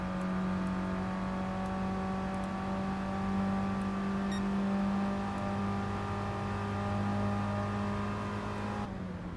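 A Lamborghini engine on a flying lap in a racing video game, a steady, loud, droning engine tone that holds nearly constant pitch throughout, with no talking.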